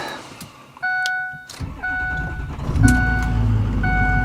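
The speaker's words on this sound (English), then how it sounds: "We're going to pull the truck into the garage." A Ford Super Duty pickup truck, with repeated electronic warning chimes, starts up and idles with a loud, close engine rumble as it is readied to pull into a garage.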